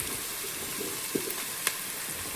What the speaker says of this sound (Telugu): ఇప్పుడు పచ్చిమిరకాయ ముక్కలు వేసుకుందాం